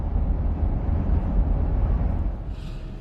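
A car engine idling just before being switched off, heard from inside the vehicle as a loud, steady low rumble with a slight drop in level near the end.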